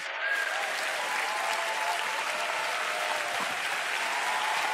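A congregation applauds during a sermon in Singapore City in 2024, with steady, dense clapping from a large audience filling the whole stretch at an even level and no talk on top.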